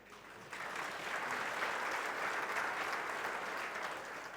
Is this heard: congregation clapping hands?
yes